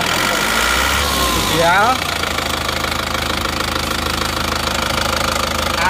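A car engine idles after repair, warmed up, running smooth with no smoke. There's a loud, steady, even rumble with a brief rise in revs early on, and a voice speaks over it.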